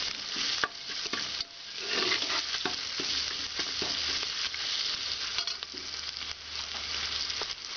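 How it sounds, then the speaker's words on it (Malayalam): Ginger garlic paste for biryani sizzles in a pan while being stirred, a continuous close frying hiss broken by repeated scraping strokes of the spoon, without talk. "ഈ ജിഞ്ചർ ഗാർലിക് പേസ്റ്റിലെ വെള്ളമൊക്കെ വറ്റുന്ന വരെ നമുക്കൊന്ന് ഇളക്കി കൊടുക്കാം"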